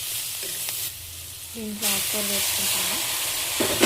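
Onions and dried curry leaves fry in a pan with a continuous sizzle that swells louder midway, over a brief stretch of voice-like tones.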